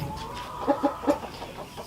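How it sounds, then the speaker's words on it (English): Several homestead chickens cluck in short bursts, with a few distinct close clucks standing out over faint background farmyard noise. "So these are some of my chickens."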